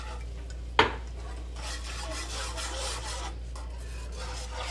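Heavy cream is stirred in a boiling pot on the stove, starting with a sharp clink of a utensil on the pot and then a soft, steady scraping and bubbling hiss, quiet and close, with no talking.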